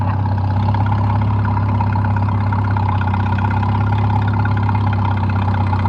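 A Farmall Super C tractor engine runs steadily in fourth gear at light throttle, a continuous loud low-pitched throb that holds constant throughout with no voices.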